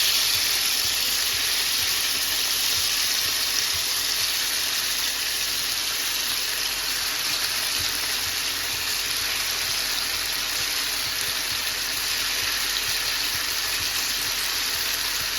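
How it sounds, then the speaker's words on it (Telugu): Boneless marinated chicken pieces for chicken tikka fry in a pan over low flame, giving a steady, even sizzle and hiss that stays at a moderate level throughout. "మనం ముందుగా మ్యారినేట్ చేసి పెట్టుకున్న చికెన్ని ఇలా వేసుకుందాం."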